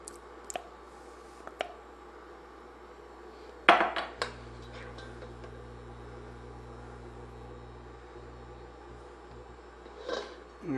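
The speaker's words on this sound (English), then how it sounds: "I'm going to try to scrape a little bit more out because it's too good" Spoon scraping flapjack mixture out of a pan, with a few sharp metallic clinks and a scrape against the pan, followed by a low steady kitchen hum and more faint clatter, fairly quiet overall.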